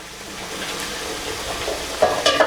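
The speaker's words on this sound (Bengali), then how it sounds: "এ পর্যায়ে আমরা আমাদের এই কষানো মশলার ভিতরে আমরা আমাদের মাংসটাকে ছেড়ে দিব।" Beef hits a pan of sautéed spice paste and sizzles steadily, with a few louder crackles and stirring scrapes near the end, close and without voices.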